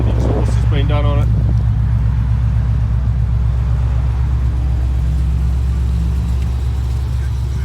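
A Holden Commodore SS with a modified exhaust idles with a deep, steady rumble close by, while someone talks over it.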